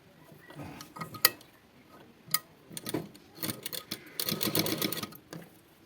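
A sewing machine stitches neck piping on a garment during tailoring, running in short irregular bursts with pauses and light clicks between runs, close and fairly quiet.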